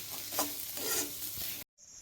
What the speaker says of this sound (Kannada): ಗುಗ್ರಿಗೆ ಒಗ್ಗರಣೆ ಕೊಟ್ಟಾಯಿತು